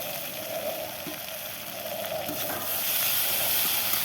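Egg and spring onion fry in a pan as chopped tomato is added, producing a continuous soft sizzle with occasional stirring scrapes, close and even.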